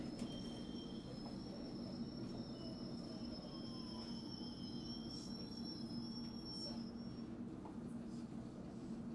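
A London Underground tube train running between Sloane Square and Hammersmith, a steady low rumble of wheels on rails with long, high metallic squeals over it, faint and continuous inside the carriage.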